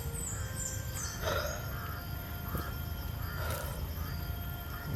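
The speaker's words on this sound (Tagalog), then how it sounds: "Ingay ng uwak." Crows cawing on a rainy mountainside, several harsh caws ringing out at intervals over a steady rushing background, moderately distant.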